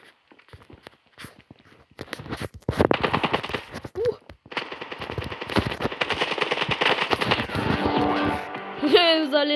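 Rapid bursts of automatic gunfire and scattered shots with footsteps from the game Standoff 2, loud and close, in a busy game-like mix, with a voice briefly speaking in Ukrainian.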